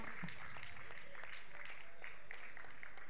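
Audience applause welcoming guests at a prize ceremony for a monsoon football tournament, steady crowd clapping at moderate distance lasting the whole stretch, with voices murmuring underneath.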